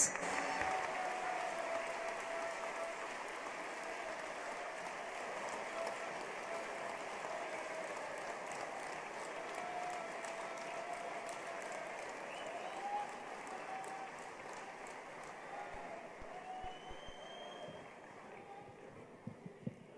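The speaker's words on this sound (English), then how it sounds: "with a thunderous round of applause for his inaugural address" Audience applause for Prime Minister Narendra Modi at the Vibrant Gujarat 2017 global summit in Gandhinagar, a steady wash of distant clapping through a large hall that holds evenly for about twenty seconds before thinning, with a few closer claps near the end.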